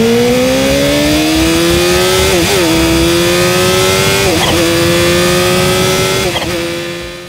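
A Kawasaki Ninja H2 supercharged sport motorcycle accelerates hard through several gears, a loud close engine howl climbing in pitch with brief dips at each shift.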